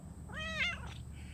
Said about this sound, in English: Once I put you down, all the meowing must cease.